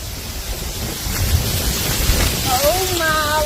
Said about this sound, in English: That was gust of wind.